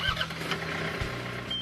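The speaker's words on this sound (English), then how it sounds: "Start your tractor back up." A John Deere 485A backhoe tractor engine starts up, with a low rumbling tone that steps up in level near the start and again about a second later, then holds a steady idle.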